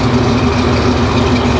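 A loud supercharged engine idles close by at around 800 to 850 rpm with a steady, slightly lumpy low rumble and a faint rhythmic pulse.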